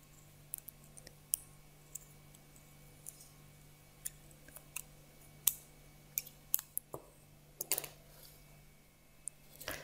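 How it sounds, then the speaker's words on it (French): Scissors snip through yarn held between two pressed pieces of cardboard while making a Christmas knitted hat pompom, giving a series of quiet, sharp clicks and snips spread irregularly over the quiet background, with no talking. "passer les ciseaux entre les deux cartons et couper le fil tout en maintenant évidemment les deux"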